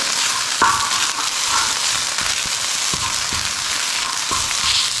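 Garlic and a spoonful of ginger fry and sizzle loudly in a pan, with a constant hot hiss. Sharp clicks and scrapes from stirring come at irregular intervals throughout.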